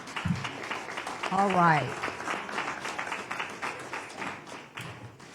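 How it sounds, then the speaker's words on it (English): Audience applause at a candidate forum for municipal elections, with light clapping running beneath a voice as he speaks briefly near the start. "Let's give them a round of applause."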